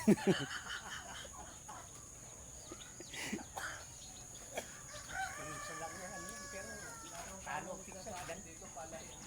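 A rooster crows faintly in the distance at a rural bahay kubo, with crickets and insects droning steadily underneath and scattered soft background noises.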